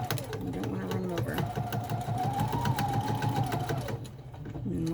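A sewing machine runs steadily while stitching a cloth mask, a close, continuous rapid clatter with a rising motor whine that eases off near the end, as someone speaks over it.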